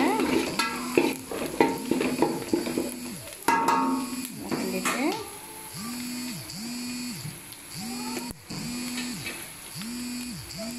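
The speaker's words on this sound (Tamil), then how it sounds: "பெருங்காயத்தூள் நல்லா கிண்டிடுங்க" A spoon stirs asafoetida and coriander powder in a frying pan for dried fish kuzhambu, scraping in steady repeated strokes over a light sizzle.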